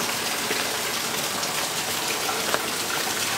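Hard rain pours down in a storm, a loud dense steady rush with no voices.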